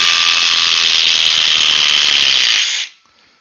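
A DeWalt power tool whirs steadily at high speed, loud and close, for nearly three seconds before cutting off abruptly, leaving only a faint tail of spin-down.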